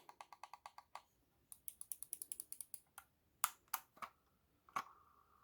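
Notched scroll wheel on a Razer Basilisk X HyperSpeed wireless gaming mouse, clicking in quick rapid bursts of crisp close ticks, with short pauses between runs and a few louder isolated clicks alone.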